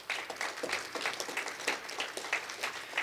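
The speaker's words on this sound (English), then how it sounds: "So let's clap on that." An audience at the opening of a Blood Tribe Department of Health event claps together in a steady, fairly faint patter. It sounds like a crowd heard from a distance, with a murmur of voices underneath.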